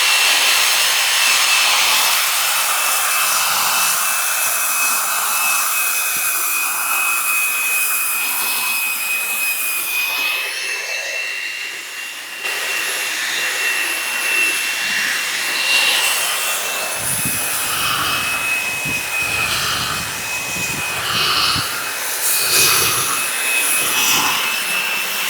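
A flap disc on an angle grinder works a stainless steel weld bead, a continuous high abrasive whine and grinding hiss, close and steady, easing briefly midway and then resuming with rougher scraping.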